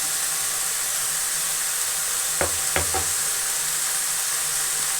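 Country chicken fry with green chili and spices sizzles steadily in a pan, with a constant close hiss and a few brief clicks from a utensil partway through.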